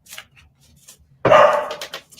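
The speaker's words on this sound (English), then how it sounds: "my dog's barking" A single loud, close bark bursts out after a quiet stretch with faint scattered sounds, then trails off into a brief rough tail.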